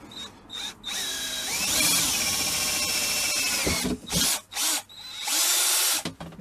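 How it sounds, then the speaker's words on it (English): A power drill with a 5mm bit whirs steadily into a Land Rover Discovery 300 TDI boot shelf, with a loud continuous grinding buzz, short stops and restarts near the end. "We'll drill this about an inch in on both corners with the 5mm drill."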